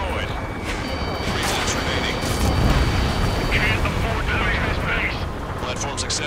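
A frigate blows up in the Ace Combat 7 flight game: dense, continuous rumbling blasts and roaring combat noise at a steady loud level, with radio chatter and jet sounds mixed in.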